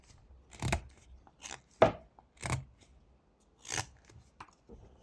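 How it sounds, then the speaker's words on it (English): A knife whittling V cuts into wood while carving a small snail from a 1x1 block: several sharp, close, dry cutting snaps spaced irregularly with quiet gaps between, no talking. "Then we can make a bigger V cut over here."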